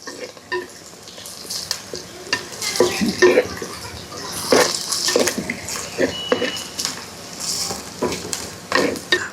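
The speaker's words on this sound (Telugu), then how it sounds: "అల్లం వెల్లుల్లి పేస్ట్ మనకి పచ్చి వాసన పోయేదాకా మంచిగా దోరగా అయితే వేపుకోవాలి, బాగా కలిసేటట్టు." Ginger garlic paste fries with onions in a pan for Telugu village-style tomato rice, a close sizzle broken by irregular stirring scrapes and clinks of the spoon against the pot.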